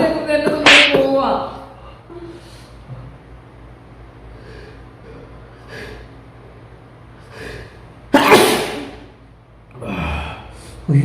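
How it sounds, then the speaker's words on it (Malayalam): Sneezes during a sneezing challenge come in a few sharp bursts, loud and close, with a strong one near the start and another about two-thirds through, and softer breathy sniffs and snorts between them. "കൊച്ചിങ്ങനെ തുമ്മുന്ന സൗണ്ട് കേൾക്കുമ്പോൾ എല്ലാം തുമ്മി പോവാ."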